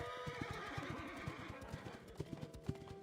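Horses neighing and whinnying in the Love and Deepspace game amid a busy forest scene, with overlapping hoof clops and layered background sound, fairly faint overall.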